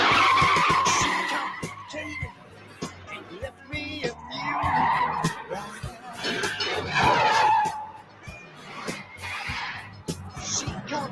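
A former police car skids hard with loud, sustained tire squeals in several long waves, heard close along with engine noise and other vehicle sounds.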